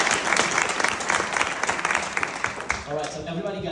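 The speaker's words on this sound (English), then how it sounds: "Round of applause for Yana, please." Audience applause for Yana at a pitch event, a dense burst of clapping from a crowd that tapers near the end as a voice begins to speak over it.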